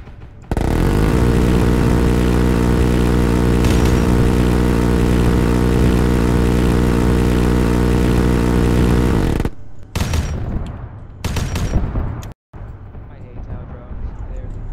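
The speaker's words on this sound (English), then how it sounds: "we are coming into the AO in a chopper from the south" A military helicopter flies in the video game Arma 3, giving a loud, constant rotor and engine drone for about nine seconds that then gives way to broken, choppy bursts of noise.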